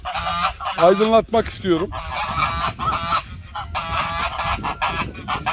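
Çorum geese honking loudly and repeatedly in bursts of nasal calls, close by, with someone speaking briefly between them.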